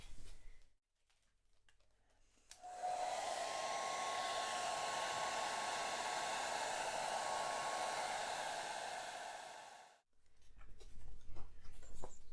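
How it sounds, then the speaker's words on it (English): A hairdryer switches on and blows in a steady, loud whoosh with a faint whine for about seven seconds over a watercolour painting, then cuts off, with quiet rustling before and after. "I might whiz a hairdryer over it just to make sure all those parts are lovely and dry"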